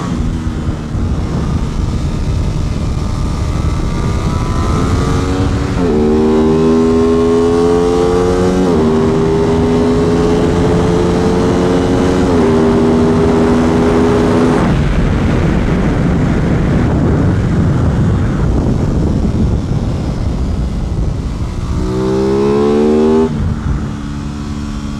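An Aprilia RS660 motorcycle ridden hard on a race track, loud and close, engine revving up through repeated gear shifts, backing off, then accelerating again over wind noise.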